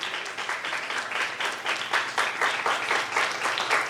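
A church crowd claps steadily and loudly for an assistant teacher at a children's Resurrection Day prize distribution, with dense, sustained applause and no talk over it.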